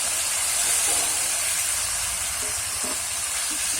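Boiled figs and potatoes frying in spiced oil for a prawn and fig curry make a loud, steady sizzling hiss with faint stirring scrapes underneath. There is no talk.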